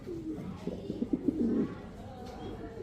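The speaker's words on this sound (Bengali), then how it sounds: "এই যে আপনার নরের ডাকটা দেখেন" An imported male pigeon held in the hand gives a low, close cooing call, a short burst of rolling coos in the middle of the clip against a quiet room.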